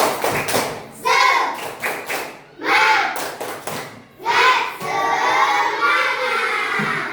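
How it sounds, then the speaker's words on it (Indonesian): Primary schoolchildren in a classroom perform a spirited 'tepuk semangat' routine, chanting together in loud bursts punctuated by rhythmic claps and thumping slaps, the group voices swelling toward the end. "Tepuk semangat."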